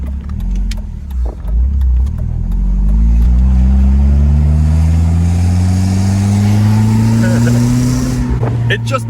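A 1997 BMW Z3 roadster driven with the top down, its engine droning loud and close as the pitch climbs steadily through a long pull, with wind rush around it.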